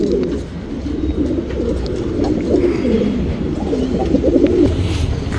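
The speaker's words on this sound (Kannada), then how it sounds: "ಚಪ್ಪರ್ ಮಕ್ಷಿಯಲ್ಲಿ ಗಂಡು." A male Chapper Makshi pigeon coos steadily and close by, its low rolling calls repeating in a continuous warble with no talking.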